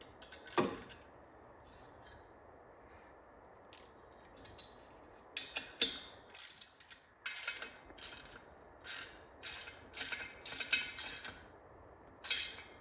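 A hand ratchet turns a bolt on an old drive-in movie theater speaker, giving quiet bursts of rapid clicking in uneven strokes, close and crisp, separated by short pauses of handling noise.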